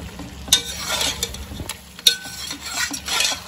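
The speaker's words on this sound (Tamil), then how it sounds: "இப்போ பாருங்கள், இந்த மசாலா நல்லா மிக்ஸ் ஆகிற மாதிரி சிக்கன் கூட." Chicken and masala for donne biryani being stirred in a pot, with a few sharp spoon clinks against the metal over a low sizzle, close and brief, no voices.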